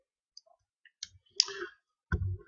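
A computer mouse gives a few faint, sharp clicks, scattered and close, set against near silence with small handling noises around them.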